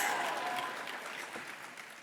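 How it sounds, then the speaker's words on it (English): An audience at a keynote presentation bursts into cheering and applause, a dense, steady wash of clapping that fades slightly over two seconds. "From the cheer and applause"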